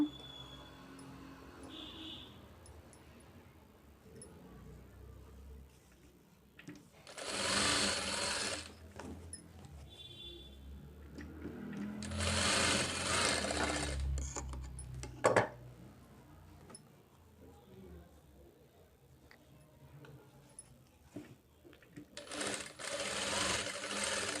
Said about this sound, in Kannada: ಹಾಗೆ ಇದನ್ನು ಸ್ಟಿಚ್ ಮಾಡ್ಕೊಳ್ಳೋಣ